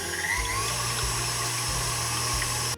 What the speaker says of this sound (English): Whisk on medium speed.